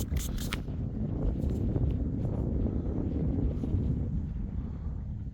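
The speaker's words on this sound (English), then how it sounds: "It's so windy." Steady wind buffets the microphone with a continuous low roar, loud and close throughout, in open, muddy farm fields.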